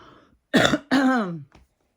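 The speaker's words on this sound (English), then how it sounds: "you got to cough" Two short, harsh coughs in a row, close and fairly loud, followed by a faint brief catch of breath, with no talking.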